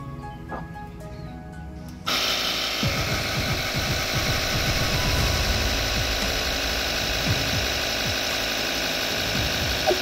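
A TUSA cordless tyre inflator starts up abruptly and runs continuously, a loud steady motor drone with a rapid rattling pump pulse pumping air into a tyre.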